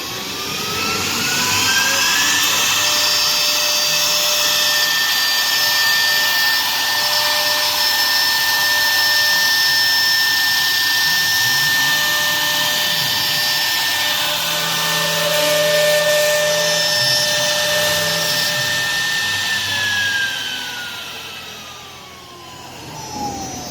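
A 1325 CNC router with a vacuum table cutting MDF for artware: a loud, steady high-pitched spindle whine with a rising then falling tone over constant vacuum-pump roar, continuous throughout and close by.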